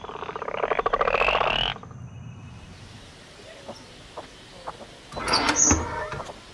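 Croaking of a poisonous blue frog at a zoo: a loud rattling burst at the start, quiet ambience, then a second croaky burst near the end.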